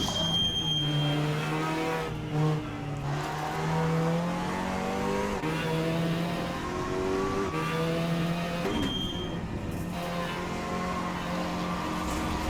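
A Cupra race car laps Brands Hatch in the Assetto Corsa racing game, its engine revving up and down through gear changes with brief tire squeal, a continuous moderate drone with no talking.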